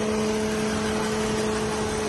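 A 23-year-old BMW E46 idles steadily with its hood open, a constant close engine hum with a fixed tonal drone throughout, no speech.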